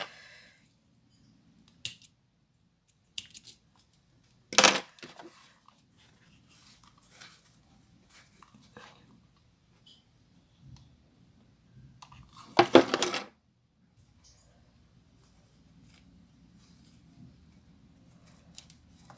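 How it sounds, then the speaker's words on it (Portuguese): Scissors cutting material for a carnival top hat, heard as two short, sharp snipping bursts several seconds apart, close and crisp, with a few faint taps and handling noises in an otherwise quiet room. "Deixa eu cortar de uma vez."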